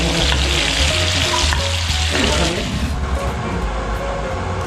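Sambal of garlic, shallots, tomato and chili fries loudly in a pan, a close, continuous sizzle with occasional stirring scrapes and no talking.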